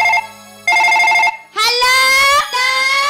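A telephone rings in loud repeated bursts with gaps between them, then a rising electronic ringtone melody sounds, all close up in a rural Odia jatra stage play, with no one speaking over it.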